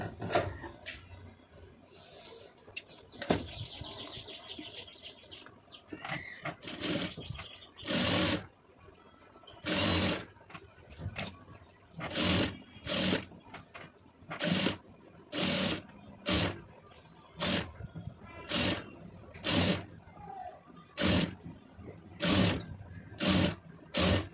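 A sewing machine stitches the neck of a soft silk saree blouse in many short, evenly spaced bursts of close mechanical whirring, separated by brief pauses and light handling noises.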